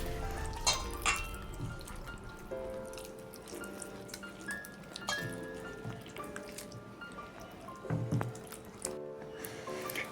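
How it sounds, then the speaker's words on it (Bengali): Bael fruit pulp mashed by hand in water to loosen its seeds and fibres gives wet squelching and dripping, steady and close with occasional louder squishes. "তাই আমি এইভাবে ভালো করে একটু চটকিয়ে নেবো তাহলে দানাগুলো বেরোতে বা আঁশগুলো বের করতে সুবিধা হবে"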